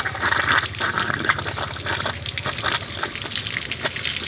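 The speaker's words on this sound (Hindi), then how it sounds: "लाइन में जब से पानी आता है तो ये अपना प्रेशर उठा लिया" Water pump motor pushing water through a line, gushing and splashing steadily as the flow builds pressure, loud and continuous with a low rhythmic pulsing underneath and no talking.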